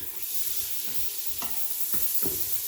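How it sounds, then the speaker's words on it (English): Onions sauteing in a pan for spiced Indian urad beans, a steady close sizzle with several spoon stirs scraping through it, no talking. "I'm going to go ahead and add our onions in. And we just want to saute all of this until it is translucent."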